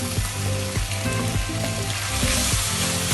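Ginger beef char kuey teow with spring onion being stir-fried in a hot wok, with a loud continuous sizzle and frying hiss up close and periodic scraping tosses of the utensil against the pan.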